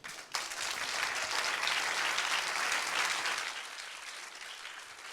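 Audience applauding award winners at a 2015 trophy presentation evening, a dense burst of clapping that starts abruptly, holds steady and loud, then thins slightly toward the end.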